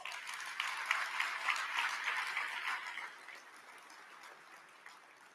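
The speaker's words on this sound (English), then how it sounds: "Let's give them a round of applause" Audience at the 2023 City of McAllen State of the City event applauding, a dense wash of clapping that swells and then thins and fades over several seconds, heard from a distance in a large hall.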